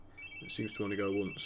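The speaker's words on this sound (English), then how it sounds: "Oh, that's the phone." A telephone rings faintly with a steady tone in the background while someone talks over it.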